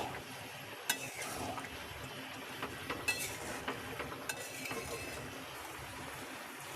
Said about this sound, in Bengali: এবার ফ্লেমটা বাড়িয়ে দিয়ে একে সমানে নাড়তে হবে।